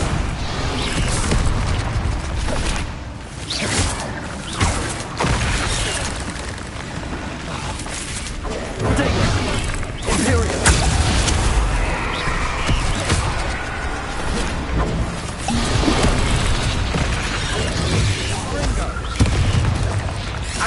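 Bombarda explosion spells go off repeatedly in Hogwarts Legacy combat, with loud booming blasts and crashes scattered through a dense, continuous barrage of game noise, mixed with a voice casting spells.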